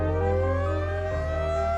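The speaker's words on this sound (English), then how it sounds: "Tornado warning sirens went off right around midnight." A tornado warning siren sounds around midnight in Newnan, Georgia: a loud, steady, continuous wail with layered tones that hold throughout, with no talking.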